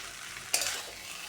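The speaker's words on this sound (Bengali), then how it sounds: "ঘি দিয়ে ভালো করে নাড়াচাড়া করে নেব" Tomato and spice masala frying in ghee: a faint steady sizzle with one brief scrape of a stirring spoon midway, low and quiet throughout.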